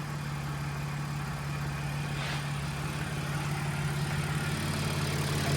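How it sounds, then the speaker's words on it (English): A supercharged 3-liter Audi SQ5 engine idles smoothly and steadily, a constant low hum close by with no voices over it. "The car is idling very, very smoothly."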